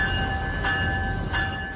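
A new Amtrak Acela train pulls out of a station, a steady mechanical rumble with sustained tonal whine, brief puffs of noise twice, close and continuous without any talk.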